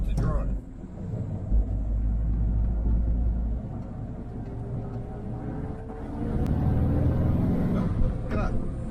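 Volkswagen Split-window Kombi van driving, its engine giving a steady low rumble inside the cabin that swells partway through, with someone talking over it.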